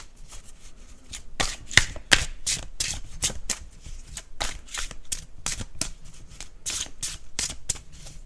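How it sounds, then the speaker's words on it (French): An oracle card deck is shuffled and handled in a rapid series of crisp, papery riffles and snaps, close and fairly quiet, with no one speaking over it. "je vais essayer de vous tirer une carte"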